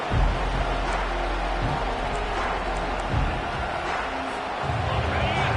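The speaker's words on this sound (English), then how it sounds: "The roar of the crowd trying to fuel this defense to keep them pinned in their own end." A stadium crowd roars at an American football game as the home defense tries to keep the opponent pinned deep in its own end, a steady loud wash of cheering with a commentator's voice running over it.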